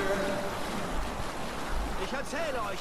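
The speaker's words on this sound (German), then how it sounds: "Guter Wind zum Segeln, Eivor!" A Viking longship sails across open sea in Assassin's Creed Valhalla, with wind and water washing steadily against the hull while faint voices and low game music sit underneath.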